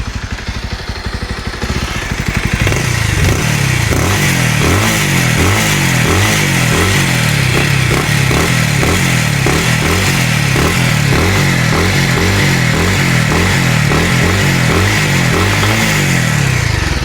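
A Bajaj Avenger 220 Cruise single-cylinder motorcycle engine starts up and settles into a loud, steady thumping idle with a regular low-pitched beat, heard close up.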